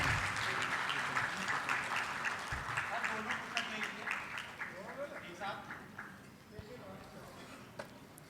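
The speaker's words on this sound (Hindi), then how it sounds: "मैं अनुरोध करूंगी कि जोरदार तालियां बजाएं इस विशेष अवसर पर।" Applause from an audience at a cultural event held by the culture department in Ayodhya, steady clapping through the whole stretch that thins a little toward the end, with voices mixed in.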